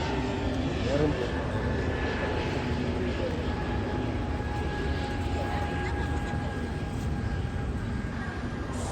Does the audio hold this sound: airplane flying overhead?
yes